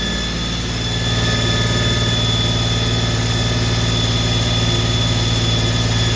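A freshly rebuilt Holden 308 V8 fitted with headers runs at a steady idle, a loud, close, continuous rumble with a faint rising whine, no talking.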